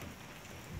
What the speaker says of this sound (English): And it's raining. It's been raining for about an hour.